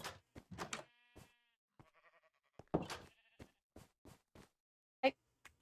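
Two short, nasal sheep bleats in Minecraft, one after the other, fairly quiet and set among scattered clicks and game sounds with otherwise near silence.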